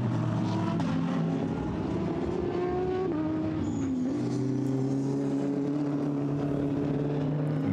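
Lamborghini and other GT3 race cars scream past on the Hungary circuit during free practice, loud engines roaring continuously with shifting pitch as cars pass and change gear.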